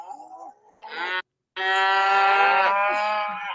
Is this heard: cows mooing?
yes